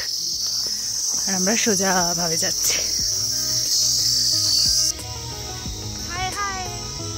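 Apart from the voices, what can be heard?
cricket chirping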